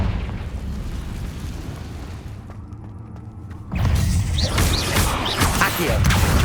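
A Confringo blasting spell in the Hogwarts Legacy video game, a booming explosion that bursts in loud and close partway through, following a quieter rumbling stretch and trailing into crackling debris.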